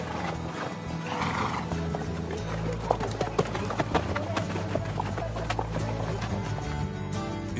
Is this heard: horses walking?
yes